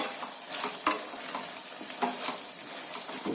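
Eggplant and lentil curry simmers and fries in a pan with a continuous soft sizzle, broken by a few stirring scrapes at irregular moments, close and alone without any voices.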